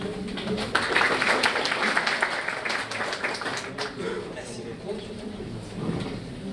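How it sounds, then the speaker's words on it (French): Audience applause at a career fair conference opening: a steady wash of clapping from a crowd, fairly loud and continuous, easing slightly toward the end. "Sous vos applaudissements"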